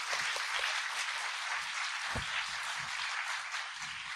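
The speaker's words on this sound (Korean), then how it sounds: "다시 한번 큰 박수 부탁드립니다." An audience at a political lecture and talk applauds after a speech, with dense, sustained clapping that holds at a steady level for several seconds and no voices over it.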